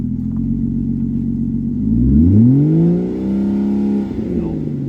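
A Ford truck engine rises from a low rumble into a high rev, holds near the rev limiter, then drops back, loud and close.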